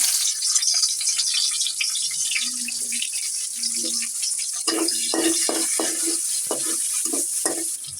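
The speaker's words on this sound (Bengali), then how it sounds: "এখন আমি এটাতে পেঁয়াজ দিয়ে দিলাম" Onions go into hot oil in a pan for an eggplant and koi fish curry, with a steady sizzle running the whole way through and a string of stirring scrapes and clinks near the end.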